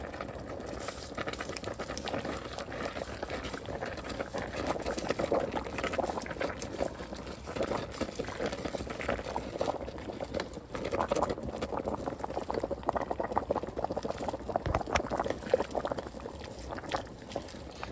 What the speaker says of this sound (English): so I got my water boiling for my noodles